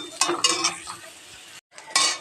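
A utensil scrapes and clinks in a pan of frying onions and chillies, several short bursts of stirring over a faint sizzle, close by, broken by a brief pause before a final scrape.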